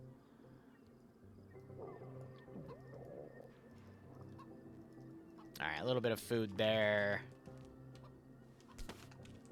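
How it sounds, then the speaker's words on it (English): A chicken clucks in the survival video game DayZ, heard in a short loud burst of bird calls over quiet ambience, with occasional keyboard tapping and someone talking softly. "I hear a chicken."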